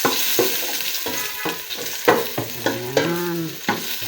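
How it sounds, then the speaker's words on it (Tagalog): Ginger toasting in a hot pan sizzles softly while being stirred, with a series of short scraping strokes and brief bursts of frying at close range. "Patosted muna natin ng konti yung ating luya."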